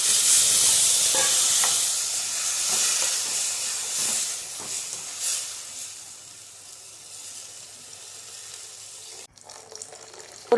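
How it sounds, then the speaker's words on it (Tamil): Ground tomato puree hits a hot pan while making Tamil tomato kuzhambu, producing a loud steady sizzle and hiss that slowly fades and thins out, ending with a sudden cut. "அரைச்சி எடுத்து வச்சுள்ள தக்காளி பழத்தை எடுத்து ஊற்றிக்குங்க."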